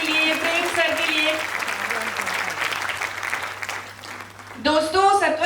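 Audience applause at a Ludhiana motivational event, a steady broadband patter of many hands lasting several seconds while a host's voice and some music carry over it, swelling again near the end.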